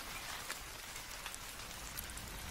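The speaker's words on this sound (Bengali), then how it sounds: "চারিদিকে শুরু হয়েছে মুষলধারে বৃষ্টি।" Heavy downpour hisses steadily and evenly, with scattered drops tapping nearby, a constant wash of rain with no voices.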